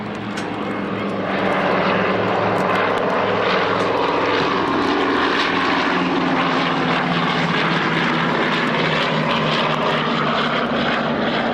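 Propeller aircraft flying past at the 1998 Middle Wallop Army Air Corps airshow, gear down and landing lights on, a loud steady engine drone that swells slightly after the first second and holds throughout.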